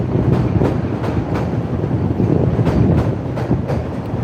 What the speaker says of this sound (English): There's the orange line heading through in front of the murals here